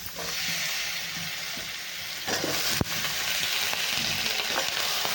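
Stuffed brinjals sautéing in oil with green chilli masala and a little turmeric, a steady close sizzle with occasional scrapes of a spoon and one sharp knock against the pan, no voices.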